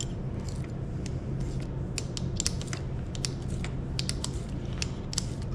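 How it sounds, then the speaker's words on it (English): A wrench works on a 2016 Honda CRF230F dirt bike, giving soft, irregular metallic clicks and creaks up close over a steady low background hum, with no talking. "so we're gonna go to a wrench"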